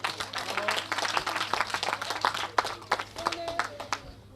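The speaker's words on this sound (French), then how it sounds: "je vous prie de l'applaudir encore une fois." Audience applause for Evelyne Lambolé at a school centre foundation-stone ceremony, a moderate crowd clapping steadily for several seconds, fairly distant and fading out at the end.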